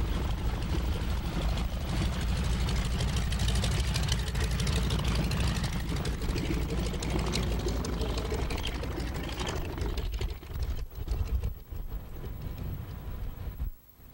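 A red and yellow banner towing tail dragger plane taxis nearby with its propeller engine droning steadily and loudly, then easing and fluttering toward the end.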